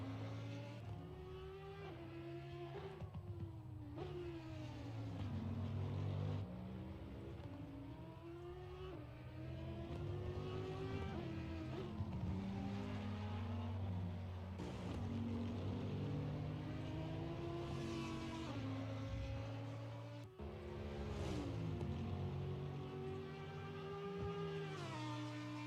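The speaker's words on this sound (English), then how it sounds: "That beautiful sound of the V10" An Audi Quattro V10 race car in a racing video game at the Hungaroring screams through repeated rising and falling revs and gear changes, loud and continuous, with no talk.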